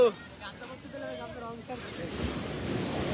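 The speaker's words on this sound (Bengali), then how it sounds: "জলের যা আওয়াজ জলের যা আওয়াজ কি বলবো" Sea waves at Digha beach wash in as a broad, rushing surf roar that swells toward the end, with wind buffeting the microphone. A person speaks over the start.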